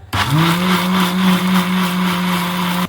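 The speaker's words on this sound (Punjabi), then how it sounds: "ਇਹਨਾਂ ਨੂੰ ਅਸੀਂ ਕਰਾਂਗੇ ਗ੍ਰੈਂਡ। ਜਿਵੇਂ ਜੂਸਰ 'ਚ ਕਰ ਲਓ" A juicer-grinder runs at full speed, grinding soaked rice into paste for kheer: a loud, close, steady motor whine with a constant drone from start to finish, and no talk over it.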